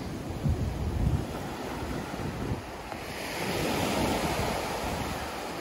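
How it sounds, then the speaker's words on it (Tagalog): Strong ocean waves wash onto a white sand beach at Dasol, Pangasinan, a steady roaring surf with a slight swell near the middle, mixed with wind buffeting the microphone and no voices. "Malakas ang alon."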